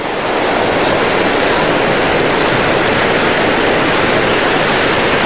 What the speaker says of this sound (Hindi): पानी एकदम क्रिस्टल क्लियर है और पानी का बहाव भी बहुत तेज है।